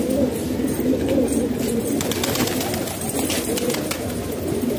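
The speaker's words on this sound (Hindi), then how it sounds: "आज कबूतर उड़ा रहा है जी" Pigeons cooing up close in a rooftop pigeon-flying setting, with soft rolling coos and some wing flutter, continuous and fairly loud throughout.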